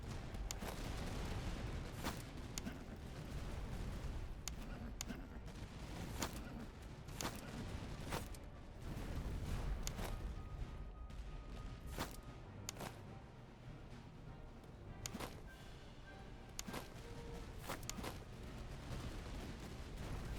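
Dense, continuous battlefield gunfire from the Master of Command video game, with repeated sharp volleys and booming artillery shots cracking out at irregular intervals over a steady roar of musketry throughout.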